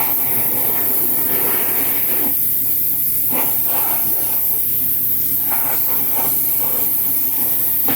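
A steady airbrush hiss sprays thinned Vallejo paint onto a quarter-scale custom Thor figure, continuous and loud throughout, with faint handling clicks and brief dips in the airflow.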